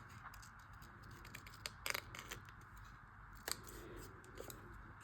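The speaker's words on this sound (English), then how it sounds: "So I'm going to cut off some of these splodgy bits." Scissors snipping paper for a gelli-printed ephemera collage, with a few soft, crisp cuts spaced apart in a quiet room and no talking.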